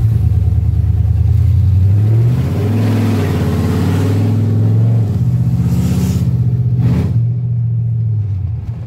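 A loud truck engine runs and revs nearby, its deep rumbling tone rising and settling in pitch across several throttle changes before easing off near the end.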